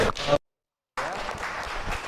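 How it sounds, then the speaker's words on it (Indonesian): Applause in a school classroom: a short burst of clapping from students, a sudden silent gap, then a longer stretch of steady clapping that carries on to the end. "Tepuk tangan dulu, semangat"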